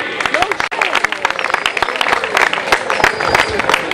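Studio audience clapping for the first contestant on a comedy show, a dense burst of applause with voices mixed in.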